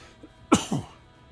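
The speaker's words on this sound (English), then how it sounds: "Get rid of this cough." A single short cough from a man taking a break while gaming, a sharp burst followed by a smaller second hack, close and fairly quiet against a still background.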